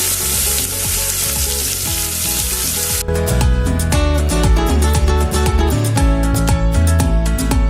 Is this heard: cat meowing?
no